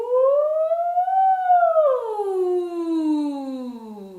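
A single falsetto voice imitates a siren, sliding up in pitch, then gliding smoothly back down in a long, clear, continuous tone.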